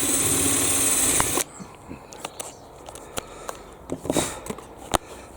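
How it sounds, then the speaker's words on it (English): A power drill bores a hole through the plastic of a fat ball feeder in a short loud whir that stops abruptly, followed by scattered clicks and handling knocks. "I'm going to drill a hole through the bit that's going over first."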